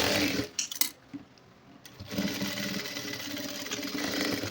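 A sewing machine stitches churidar top fabric in a steady, close mechanical whir, with a few short clicks and a pause near the start before the motor runs continuously.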